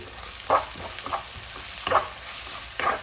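Onion and tomato being sautéed and stirred in a pan, with a steady low sizzle broken by a few louder scraping stirs of a spoon against the pan, close and without talk.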